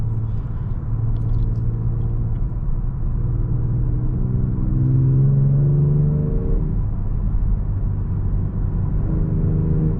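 A 2022 Genesis G70 3.3T AWD engine in Sport Plus mode drones loudly and steadily, its pitch climbing and dropping through gear changes as the car accelerates.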